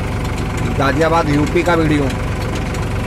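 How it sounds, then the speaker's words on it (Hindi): A tractor engine in Ghaziabad, Uttar Pradesh, runs steadily while pumping water, a low rhythmic throb heard close under someone talking throughout. "वहाँ पे देखो ट्रैक्टर से कैसे पानी निकाल रहे हैं।"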